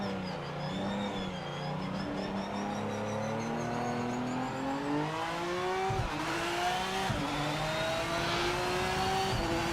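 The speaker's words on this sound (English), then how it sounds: "Seems like the sound is just clipping when you rev it." A race car in the Project Motor Racing video game revs steadily for the whole stretch, its engine tone climbing and holding loud and close, with harsh distorted clipping running through the sound.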